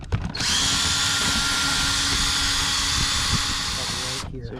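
A power drill runs steadily for about four seconds, unscrewing screws during a Full Force Seeker install, with a sustained high whine that starts and stops abruptly, close up, while a person talks over it.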